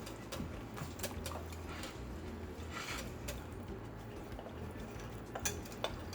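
Cheese muffin batter is stirred in a bowl, with a steady, busy scraping and clinking of the utensil against the sides at close range, continuing without pause.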